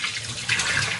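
Hot water runs steadily from a kitchen sink faucet with strong pressure, a continuous close hiss and splash with no talking.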